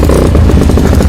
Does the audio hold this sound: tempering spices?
no